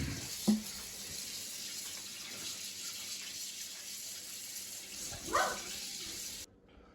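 Running tap water as hands are washed at a kitchen sink during bread making, a steady hiss of flow with a couple of brief splashes, close by and without talk.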